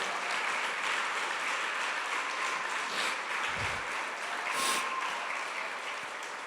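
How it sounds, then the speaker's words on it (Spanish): A church congregation applauds during a Spanish-language sermon, a steady wash of clapping at moderate volume lasting several seconds with no clear talk over it. "Dele un aplauso al Señor si es que usted lo cree"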